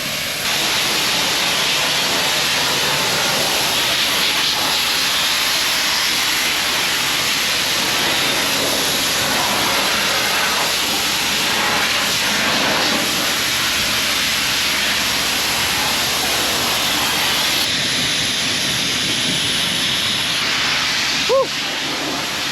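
A sandblaster hisses in a loud, continuous blast of air and grit against a boat engine from a 1958 Viking, steady close-up noise lasting throughout with a brief pause near the end.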